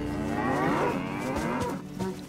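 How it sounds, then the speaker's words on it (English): Cattle in the video game DayZ give a long, loud, low moo close by, steady for nearly two seconds before tailing off. "Cows!"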